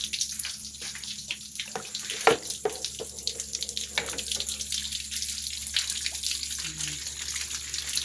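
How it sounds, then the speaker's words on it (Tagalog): Tap water running steadily into a sink and overflowing, a continuous gushing splash with occasional knocks and clatters, close by, with faint speech in the background. "Nagdalagan sa pakatubig sa nag-aawas."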